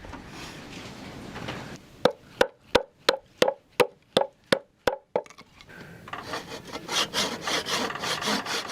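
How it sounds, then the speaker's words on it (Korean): Wood is carved by hand at an old rural house, starting with rough scraping, then about ten sharp, evenly spaced knocks or chops, then steady close shaving strokes. "이젠 나무 깎는 소리만 들려도 괜스레 기대가 되는군요."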